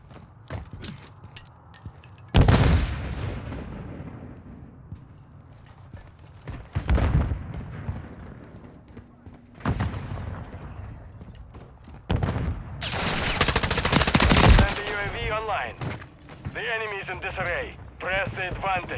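Enemy gunfire in Call of Duty: Modern Warfare III comes as loud, sharp shots and short bursts, spaced through the scene with a dense burst of fire near the end, over a rumbling game backdrop.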